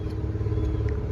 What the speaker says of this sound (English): Truck's running and it sounds great. No knocking or ticking.